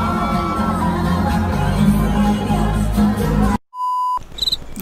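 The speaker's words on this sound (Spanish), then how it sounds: "Les fans gritan." Concert fans screaming and cheering as a broad, loud crowd roar that cuts off abruptly, followed by a short steady beep tone and then renewed noisy crowd sound.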